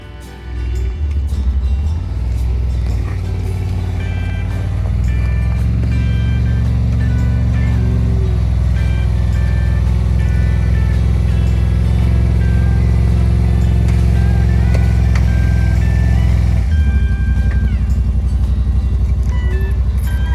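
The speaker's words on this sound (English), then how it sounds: "we're going to drive the side-by-side up them a little bit" A side-by-side UTV, loaded with its gear, idles and then creeps up aluminum loading ramps under a steady, loud engine drone that rises slightly before dropping off near the end, heard up close.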